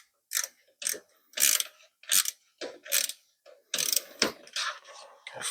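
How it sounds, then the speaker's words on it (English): A bolt on a GY6 scooter starter motor being turned in by hand, a series of short, separate clicking ratchet-like turns in an irregular rhythm, close and fairly quiet. "I'm gonna screw it by hand just a little bit."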